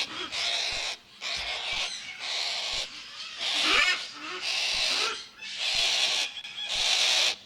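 Loud, harsh screeching calls from a white-tailed black cockatoo repeat in long drawn-out bursts with short gaps, close by and continuous over the whole stretch.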